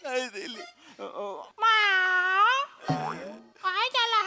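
A person imitates a cat, giving a few drawn-out meowing cries between bits of speech.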